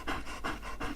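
Joe, a dog, pants close by in three quick, even breaths, soft and rhythmic with nothing else over them.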